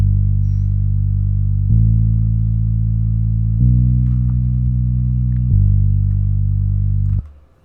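Overdriven glide bass from a pluggnb beat, a thick, distorted low tone holding long notes that slide between pitches in several steps, loud and steady before cutting off near the end, with no other instruments or voices.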